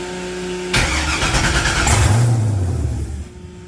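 A 1980 Trans Am with a swapped 6.0 V8 cranks and fires up with a sudden loud roar, revs briefly, then sags and stalls out, leaving quiet at the end.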